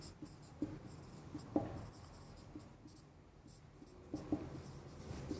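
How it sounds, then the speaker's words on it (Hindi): Hand-writing a definition during a Hindi child psychology lesson, probably chalk or marker on a board: faint, intermittent scratchy strokes in short bursts with pauses, quiet and close, no talking. "तो देखिएगा क्रो एंड क्रो की परिभाषा क्या थी, लिखता हूं।"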